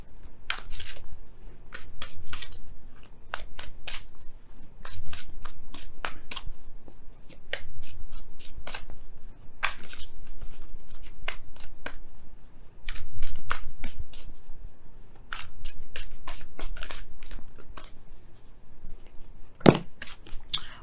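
Oracle cards are shuffled by hand during a tarot reading, giving repeated crisp riffling bursts close up with short pauses between them for about twenty seconds.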